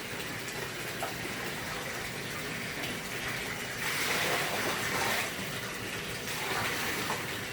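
Potassium permanganate solution poured and spread into an outdoor koi pond, heard as a continuous gushing, splashing water sound at moderate level that swells briefly partway through.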